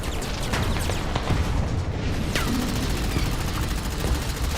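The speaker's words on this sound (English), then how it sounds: "The cacophony of gunshots, metal colliding in explosions" Dense, continuous gunfire with rapid bursts and booming blasts, metal colliding in explosions, a loud chaotic battle din throughout, in the video game Girls' Frontline.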